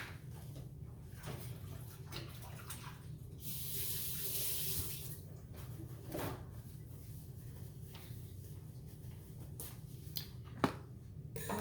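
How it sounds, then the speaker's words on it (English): Running tap water splashes steadily over hands being washed at a kitchen sink, a soft continuous rush with a brief louder spray in the middle and a small clack near the end. "get my hands a wash again"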